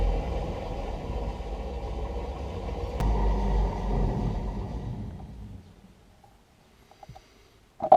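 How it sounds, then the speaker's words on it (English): An electric motor with an inverter spins the wheels of a BMW E46 drift car, producing a low steady whirring rumble that fades to near silence before a few faint clicks and knocks. "that is our motor running, inverter motor thingy, turning, spinning wheels"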